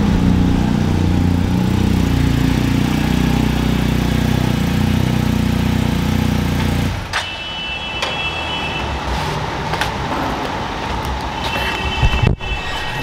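A BMW R 1250 GS Adventure motorcycle idles with a low, steady engine rumble for about seven seconds while being parked, then cuts off, leaving quieter outdoor background with a few clicks and knocks.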